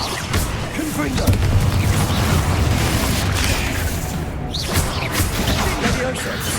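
A Confringo blasting spell explodes in the Hogwarts Legacy video game, a sustained loud rumbling blast with crackling bursts, dense and close, fading briefly before another burst.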